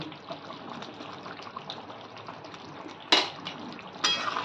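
Chicken curry with garam masala, kasuri methi and ghee being stirred in a pan on the stove, a steady soft scraping and sizzle with two sharper metallic clanks of the spoon against the pan near the end.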